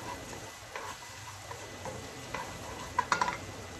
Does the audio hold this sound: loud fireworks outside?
no